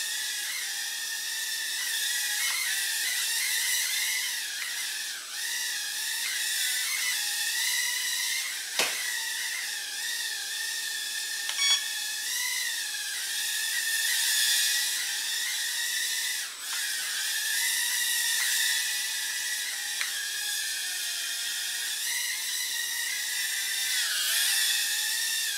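Micro hexacopter drone with six small electric motors idling, a steady high-pitched whine with layered tonal harmonics and slight pitch wobble, continuous and fairly close for the whole stretch.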